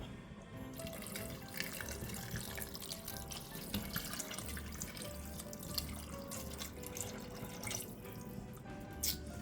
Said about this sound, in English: And then you put the beef broth on top.